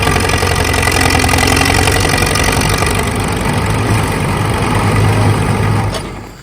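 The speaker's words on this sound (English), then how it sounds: "And I got the Lima fired up." A Lima engine runs with a steady, continuous mid-low drone, idling evenly and close by before easing off in the final moment.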